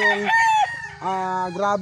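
A White General gamefowl rooster crows loudly and close, giving one long strained crow followed by a second drawn-out call, with harmonic, slightly hoarse tones and a brief break between them.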